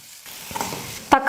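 Tomatoes sauté in a pan for an oily eggplant curry (ennai kathirikai kuzhambu), giving a brief soft sizzle with a couple of sharp stirring scrapes, the last one louder.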